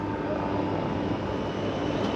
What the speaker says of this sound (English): Next up we got Bo Ellis running a Legend Cub, the mini wagon